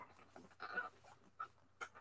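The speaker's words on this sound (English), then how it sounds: "puppy." A puppy pants in short, breathy bursts close by, a few quick puffs spaced across the moment, with a faint steady hum underneath.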